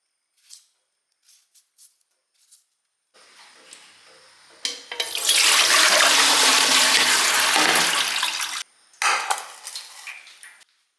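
Small taro and yam pieces washed in water in a home kitchen: scattered light clinks and knocks, then several seconds of loud running, splashing water that stops abruptly, followed by a short burst of rinsing.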